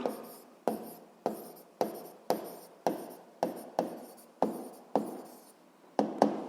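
A pen or chalk writing by hand during a physics lesson, a regular series of about a dozen short scratching strokes, each starting sharp and trailing off, close and clear with no talk.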